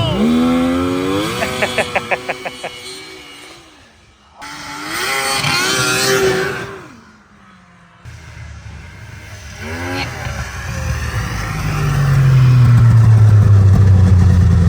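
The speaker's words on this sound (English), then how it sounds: "Can't really beat the sound of a triple." Polaris Indy 600 triple-cylinder snowmobile engine, loud and near, revving in bursts with rising and falling pitch, brief drops between throttle blips, and a sustained high rev at the end.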